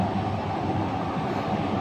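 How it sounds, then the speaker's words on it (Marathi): A driverless automated metro train in Singapore running at speed, heard from inside the car as a steady low rumble and rolling hum with no distinct breaks, no voices. "कुठल्याही प्रकारचं ड्रायव्हर नाही, स्वयंचलित सिंगापूरची मेट्रो."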